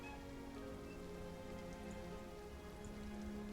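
Steady rain patters on surfaces as ambience for a tabletop role-playing campaign, a continuous, even wash of drops with no voices over it.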